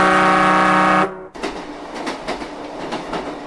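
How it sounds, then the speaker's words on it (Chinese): A Chinese high-speed train passes: a steady tonal horn-like blast cuts off, followed by a close rushing rumble with rapid, rhythmic clacks of the cars going by. "这是中国现在的高铁。"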